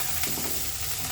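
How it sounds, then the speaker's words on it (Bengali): Salt-and-turmeric coated shrimp fry in hot oil, a brief, close and steady sizzling hiss with no voices. "এখন চিংড়ি মাছগুলো আমি লাল লাল করে ভেজে নেব"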